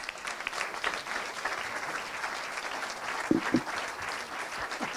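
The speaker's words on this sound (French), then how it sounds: "On peut les applaudir." An audience at a farming festival's closing round table applauds the organising team, a steady crowd clapping at moderate volume with a couple of sharper, louder claps close by partway through.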